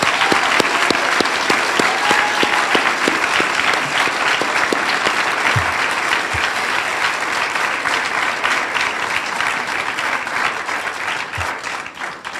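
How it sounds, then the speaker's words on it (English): Loud, dense audience applause fills a youth leadership academy ceremony, with steady clapping sustained throughout and a few sharper claps and faint voices mixed in. "let's give everybody one final loud round of applause"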